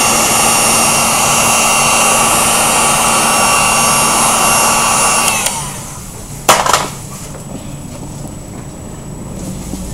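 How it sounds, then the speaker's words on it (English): A loud, steady roar of a heat gun warming a dented plastic car bumper cover, running continuously before cutting off partway, followed by a brief clatter and quiet. "Step one, we have heating the bumper, trying to get it back into shape."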